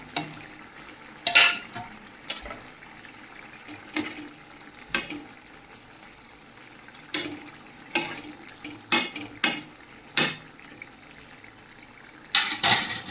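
Pieces of fried fish go into a reducing curry simmering in a pan, heard as a dozen separate wet splashing and scraping bursts at irregular intervals over a quiet, faint bubbling background.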